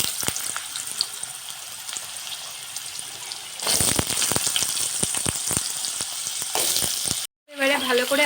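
Potatoes sizzling loudly in hot oil while Bengali murighonto cooks, a steady close frying hiss with crackles that grows louder as the potatoes go in, ending in a brief pause and clatter.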